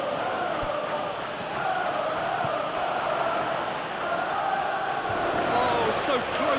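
A football stadium crowd in the SP Football Life 2025 video game gives a broad, steady roar of reaction and applause that holds for several seconds, with a commentator talking over it.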